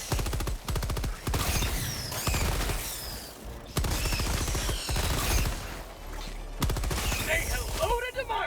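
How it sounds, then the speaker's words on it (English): Machine gun fire in Helldivers 2, rapid bursts of shots repeating through a chaotic battle, loud and close, with clattering mechanisms between volleys and voices talking over the fighting. "Let's get the machine gun on this."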